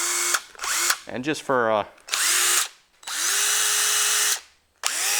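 A Hercules impact driver runs in several short bursts and one longer sustained run, each with a rising whir as it spins up. Someone speaks briefly between the runs.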